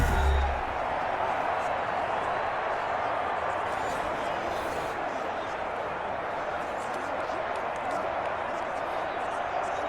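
Stadium crowd in Madden NFL 21 during a Tampa Bay Buccaneers vs Cleveland Browns exhibition football game, a steady dense roar of fans that holds throughout while a commentator talks over it.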